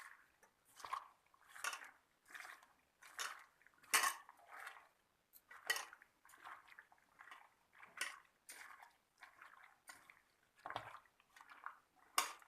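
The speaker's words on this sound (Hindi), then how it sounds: "अभी इसको अच्छी तरह से मिलाना है।" Chicken pakora masala being mixed in a bowl, a faint series of soft rhythmic scraping and clinking strokes repeating about once a second.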